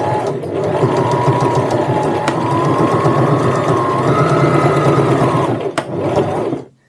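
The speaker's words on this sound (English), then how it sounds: "What you're going to do is just sew across backwards and forwards a couple of times." A sewing machine stitches back and forth across a tote bag strap, a loud continuous mechanical whir running steadily for several seconds before stopping abruptly.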